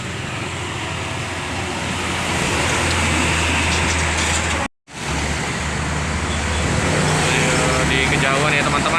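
Fuso tronton trucks rolling past on the eastern trans-Sumatra highway near Palembang, a loud continuous roar of engines and tyres with a sudden cut midway before the traffic rush resumes.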